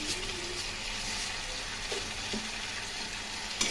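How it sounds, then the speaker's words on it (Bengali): Potatoes with cumin and coriander powder sautéing in a pan, a brief steady sizzle with faint stirring scrapes, close and moderately quiet. "খুব ভালো করে মশলা এবং আলু কষিয়ে নেব"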